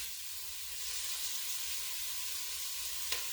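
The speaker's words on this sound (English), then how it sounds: "I'm going to add maybe 3 stalks of celery cut up very fine." Finely cut celery cooking in a pot for clam chowder, giving a faint, even sizzle with steady hiss and one small clink near the end.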